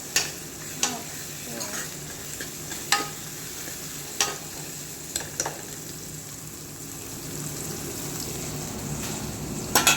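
Onions and masala-marinated chicken frying in a pan, a steady close sizzle running throughout with several sharp stirring scrapes and clacks standing out, no voices.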